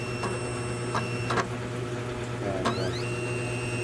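A CUYI MK630 cutting plotter runs a test cycle with a steady, close mechanical hum, punctuated by a few short clicks and rising whirring chirps as the head moves.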